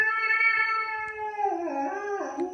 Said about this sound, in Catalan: Un gat!